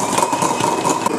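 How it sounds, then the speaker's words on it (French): An electric mixer whirs loud and close, beating egg whites in a steady continuous drone before sugar goes in for a Halloween cake. "Je vais monter mes blancs et je vais ajouter le sucre pour les serrer et avoir une belle texture."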